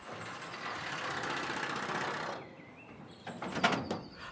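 An automatic gate opens at a remote forest house in an audio drama, a broad mechanical rush followed by creaking squeals and a clunk as it settles.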